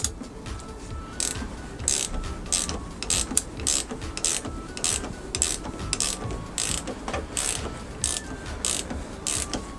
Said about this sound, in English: these ratchet spanners are really good